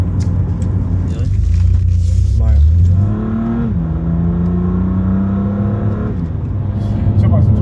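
BMW M2 Competition 2018 engine revving up with rising pitch, loud and close throughout, over a steady drone with voices speaking briefly near the start.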